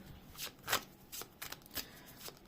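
Tarot cards being shuffled in quick, papery riffles, several short bursts close by in a quiet room.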